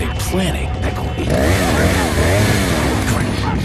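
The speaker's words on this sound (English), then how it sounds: "Chainsaw." A chainsaw revs in Resident Evil 4, a loud, wavering engine snarl that rises in the middle of the clip, mixed with shouting voices and in-game commotion.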